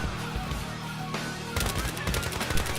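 A QBZ-95B rifle fitted with a PSO-1 scope fires rapid automatic bursts in a video game, loud and close, with rattling shots that intensify into a fast continuous volley toward the end.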